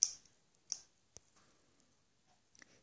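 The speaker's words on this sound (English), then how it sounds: "you'll cut off this section with your scissors." Scissors cutting a corner section from a sheet of A4 paper, a few sharp, quiet snips and clicks spaced irregularly with near silence between them.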